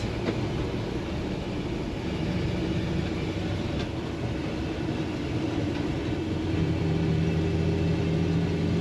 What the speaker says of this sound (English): You hear a little rumble out that exhaust.